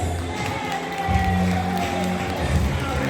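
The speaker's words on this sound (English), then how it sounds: "Round of applause for NGSA graduate Danae Joris." Graduation audience at an NGSA ceremony claps and cheers in a sustained burst of applause, with scattered whoops and a voice announcing over the crowd.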